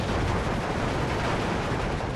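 An M10 tank destroyer fires at a Jagdpanzer IV on a World War II battlefield in Steel Division 2, a dense, sustained rumbling blast of gunfire with no clear gaps, loud and broad throughout.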